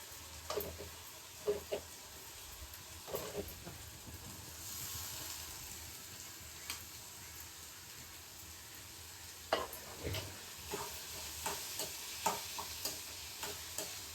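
Finely chopped bitter gourd frying in hot oil in a pan, giving a steady soft sizzle with intermittent scraping and clicking from stirring, close and fairly quiet.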